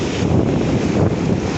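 Tsunami surge waves roll in at North Beach, Port Townsend, heard as a loud, steady roar of surf heavily mixed with buffeting wind noise on the microphone, with no voices.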